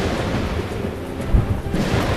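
Thunder cracks over a steady wash of heavy rain in a cartoon forest storm, a loud continuous downpour with a sharp thunder hit near the middle and no speech.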